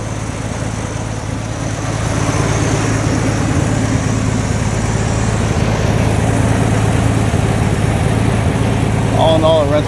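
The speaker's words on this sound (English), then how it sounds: "So here's the orange car running." An orange car's engine idles steadily nearby with a rough, loud exhaust note from leaks, a continuous low drone running throughout.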